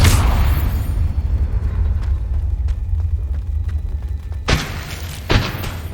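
A Confringo fire spell blasting in Hogwarts Legacy, a deep rumbling boom at the start that fades into low rumble, followed by two more sharp thudding impacts near the end, with no talk.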